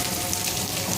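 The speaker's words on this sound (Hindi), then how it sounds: "रावलपिंडी में बारिश लगी हुई है और ये देखें ओले भी पड़ रहे हैं।" Heavy rain mixed with hail pours down in Rawalpindi, a loud, dense, unbroken hiss of drops striking surfaces close by.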